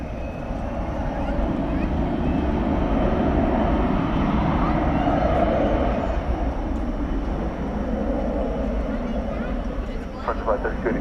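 An Iberia airliner at DFW Airport at night gives a steady, broad jet roar that swells slightly and holds throughout, fairly loud from a short distance, with faint voices beneath it.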